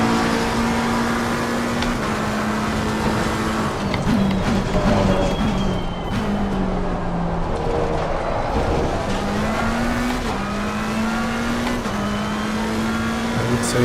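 The McLaren 720S EVO race car's engine in Assetto Corsa Competizione drones steadily and loud through a lap on the Hungaroring, its pitch rising and dropping with shifts and braking, with faint tire squeal and no talking.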